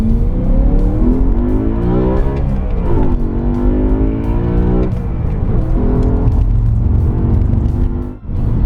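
A BMW E90 M3 accelerates hard from inside the cabin, the engine note climbing steeply through several gears with brief dips at each shift, loud and continuous over a steady road rumble.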